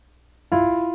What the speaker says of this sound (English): which is a minor second,